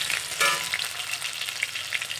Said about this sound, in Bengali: এই যে আলু এইভাবে এই যে ভাজা হচ্ছে